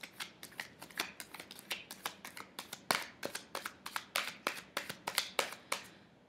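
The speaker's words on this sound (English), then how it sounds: "I'm just going to keep shuffling" Tarot cards are shuffled in quick riffling bursts, a rapid string of soft papery snaps close up, steady throughout and fading at the end.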